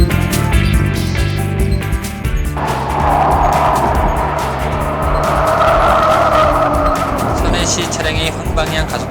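Tires squeal on a car weaving through a slalom of cones at a steady 60 km/h during a luxury sedan comparison test, a sustained screech rising over engine and road noise.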